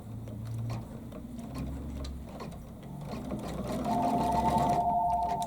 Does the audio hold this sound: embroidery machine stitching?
yes